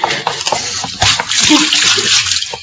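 Water is dumped from a pitcher over an unconscious man in an old radio western. A loud, splashy gush of water pours and splatters throughout, with faint background voices.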